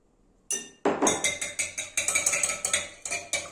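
Two eggs whisked in a mixing bowl for a carrot cinnamon cake, a close, bright rapid clinking of the whisk against the bowl, starting after a short pause and continuing in a quick, regular rhythm.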